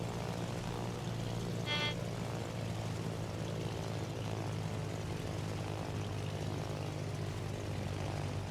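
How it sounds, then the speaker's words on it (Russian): A fighter plane launching from the aircraft carrier Admiral Nakhimov in World of Warships gives a steady, droning propeller-engine hum that holds evenly throughout, with no one speaking. "Истребитель взлет произвел."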